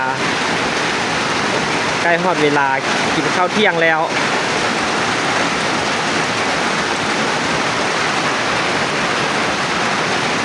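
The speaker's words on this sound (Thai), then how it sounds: "ฝนตกเนาะ" Steady rain falling over rice paddies during traditional Lao rice transplanting, a dense continuous hiss throughout, with someone speaking briefly over it early on.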